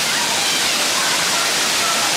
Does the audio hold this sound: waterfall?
yes